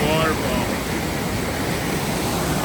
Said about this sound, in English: Oh, I'll show you the waterfall.